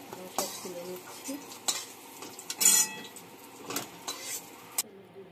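Fried cauliflower pieces scooped out of hot oil in a pan, with a series of sharp metal scrapes and clinks of the ladle over a soft background sizzle, in irregular bursts.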